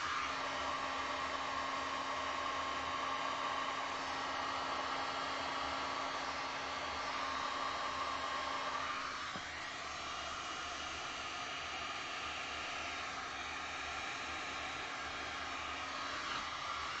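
A heat tool blows hot air onto resin in coaster molds. It makes a steady, loud whooshing hiss that runs continuously for the whole stretch, shifting slightly in pitch partway through, with no voices.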